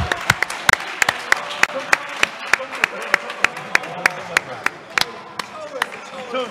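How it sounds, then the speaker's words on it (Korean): Indoor audience at a squash quarterfinal in the 2018 Hi-Five Cup KSTV Masters Open claps in a steady rhythm, sharp individual claps ringing out over a crowd murmur, with a commentator talking over them. "박수만 나옵니다"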